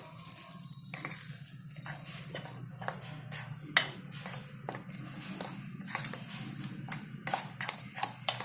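A spoon works hot oil into wheat flour dough in a bowl, giving quiet scraping and repeated clicking taps at an irregular pace over a low steady hum, close and soft, with no talk.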